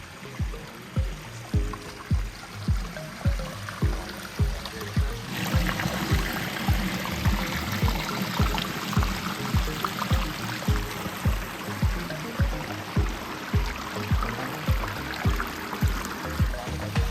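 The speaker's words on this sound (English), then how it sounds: "you got the sound of the Pondless waterfall right behind you" Water from a backyard pondless waterfall trickles and splashes steadily, close by, under a regular rhythmic thumping that repeats about every second throughout.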